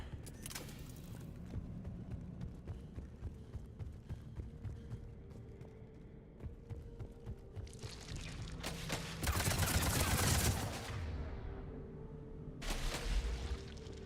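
Gunfire from weapons in Mass Effect 3, a fusillade of shots and bursts over a busy game soundscape, with louder flurries toward the end of the clip.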